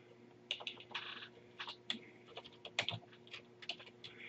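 Fast typing on a computer keyboard, with irregular bursts of crisp key clicks and brief pauses, close and fairly quiet over a steady low hum.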